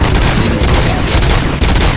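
Gunfire from the RoboCop: Rogue City video game: dense, loud bursts of overlapping shots and automatic fire rattle continuously for the whole stretch, close and heavy, with no pause.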